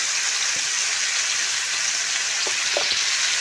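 Mango pieces dropped into a hot pan with dry mustard and turmeric for ripe mango chutney give a steady, close sizzle with faint stirring clicks, no voices.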